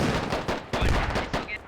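Gunfire in the video game Squad during a firefight at a bridge, a rapid burst of overlapping shots and automatic fire, loud and dense throughout.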